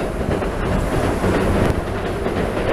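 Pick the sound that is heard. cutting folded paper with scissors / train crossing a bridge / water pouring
train crossing a bridge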